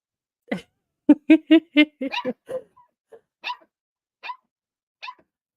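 Dog barking close by in a quick run of loud barks, then a few spaced single barks and yips with silence between.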